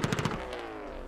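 A drift car in the Assetto Corsa racing game pops and crackles its exhaust in a rapid burst of sharp bangs over a steady engine drone, then settles into the engine note alone.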